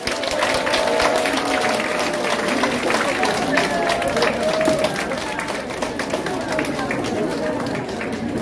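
Crowd applause sending off a departing pastor at a political office opening ceremony, sustained dense clapping with murmuring voices and chatter mixed throughout.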